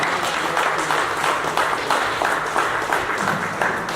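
A crowd at an amateur boxing press conference for veterans gives a round of applause, a steady, fairly loud wash of many people clapping that continues for several seconds.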